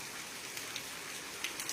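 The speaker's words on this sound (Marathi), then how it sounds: "या अवकाळी पावसाच्या सरी ज्या आहेत ते कोसळताना आपण बघतो" Unseasonal rain falls steadily around Baramati, Indapur and Daund, making a faint, even hiss with scattered drops tapping close by.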